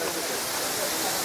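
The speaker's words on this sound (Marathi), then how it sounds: "इथे पण छोटा झरणा आहे." Small hidden waterfall in monsoon Maharashtra, a steady broadband rush of falling water filling the whole moment at close range, with no break or change.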